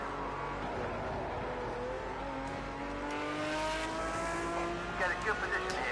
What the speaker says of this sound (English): Makes quite a bit of noise, this car.